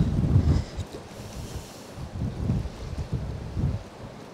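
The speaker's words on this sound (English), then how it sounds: "Hopefully the microphone's not picking up too much of the wind noise, because it is blowing a hoolie" Strong wind buffets the microphone on a fishing boat at sea, a loud, gusty low rumble pulsing in waves throughout with no voices.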